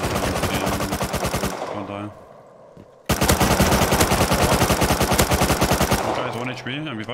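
Gunfire in the survival video game Rust, loud rapid automatic bursts with a short pause between them, while players speak briefly over the shooting.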